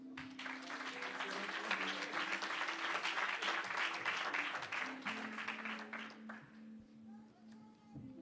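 Applause at a church graduation ceremony for a workers' training course class, a crowd clapping loudly and continuously before thinning out toward the end, with some voices mixed in.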